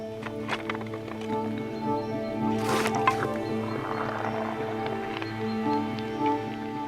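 Quicklime slaking in a bucket of water as it turns into lime putty, giving a soft continuous bubbling and squishing fizz that swells briefly midway, heard close against a steady low background hum with no talking.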